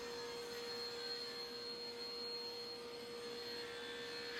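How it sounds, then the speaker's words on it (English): A table saw runs steadily while breaking down plywood sheets for upper cabinets in a cabinet shop: a constant, loud whining drone with a fixed pitch, held evenly with no pauses and no voices. "Off to the table saw for me to break down some plywood for upper cabinets."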